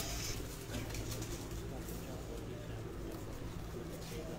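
Low cooing from a Breta breed pigeon repeats steadily through the clip, mixed with a busy background murmur and faint voices nearby.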